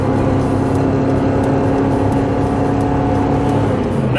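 A gas-engine pickup truck with an Edge power programmer strains up a hill after gearing down, its engine a steady, loud drone with heavy road and wind roar heard from inside the cab, and no talking.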